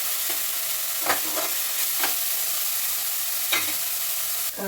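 Green beans stir-fried in a pan give a continuous loud sizzle, with a few spatula scrapes spaced through it and no voices over the cooking.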